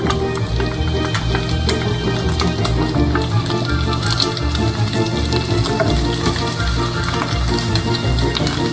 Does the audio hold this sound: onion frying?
yes